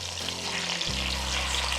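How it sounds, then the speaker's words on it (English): Pork chops browning in a Dutch oven give off a steady, close sizzle and crackle of hot fat, continuous and even, with a low hum underneath that shifts slightly partway through. "what we're going to do here is brown both sides of the pork chops."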